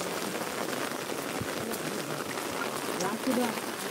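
Steady rain falls around the trek path at Raigad fort, a dense continuous patter that fills the whole stretch, with faint voices mixed in underneath.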